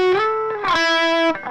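An electric guitar note slides up in pitch, then rings out with distortion, delay and reverb, the sustained tone fading at the end.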